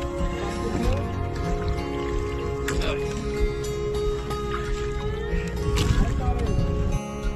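A wooden rowboat is paddled on a village river during a camping trip, with steady oar sloshes and water movement under continuous background music and a voice.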